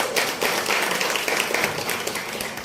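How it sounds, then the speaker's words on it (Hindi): Audience applause at a stage arts gathering, a dense steady wash of many hands clapping together that holds for the whole stretch without a break. "मैं इनके लिए चाहूँगा जोरदार ताली बजाएं"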